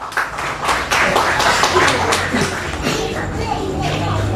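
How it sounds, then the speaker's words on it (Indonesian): A crowd claps in a steady, dense patter that holds for several seconds, with faint murmuring voices mixed underneath. "Tepuk tangan untuk Mbak Mala."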